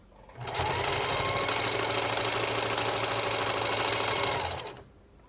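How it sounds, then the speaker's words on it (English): A sewing machine runs in one continuous burst of about four seconds, a fast loud mechanical whirr stitching the bottom of a fabric mask, starting and stopping abruptly. "we're going to set it down and sew the bottom"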